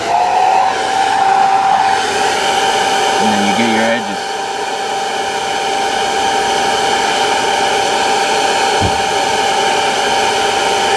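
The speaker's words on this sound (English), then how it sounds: "turn the hair dryer back on" A hair dryer blows with a loud, steady whirring hiss throughout, while a person speaks briefly over it.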